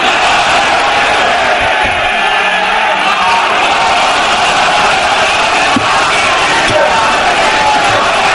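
Large crowd at a Bangla Islamic sermon gathering roars a sustained chant in unison, a dense, loud mass of voices that carries steadily across the whole stretch without a break.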